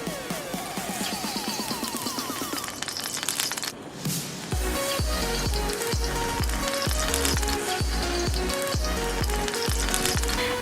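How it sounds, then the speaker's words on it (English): Oil sizzling hard in a very hot clean wok, a steady loud crackle that runs the whole time, joined partway through by rhythmic clanks of stirring against the pan. "To the wok, a clean wok, you're going to add another 2 tablespoons of oil. Once again, it is a very hot wok."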